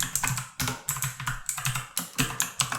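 Typing code on a computer keyboard, quick bursts of close, crisp key clacks with short pauses between, loud and alone without talk.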